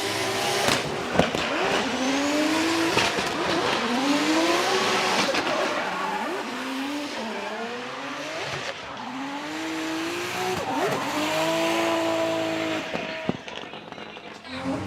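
A Toyota GR86 drift car at full throttle during Formula Drift Japan qualifying at Okayama International Circuit: a loud engine wails and sweeps up and down through continuous revving while the tires squeal steadily throughout the slide.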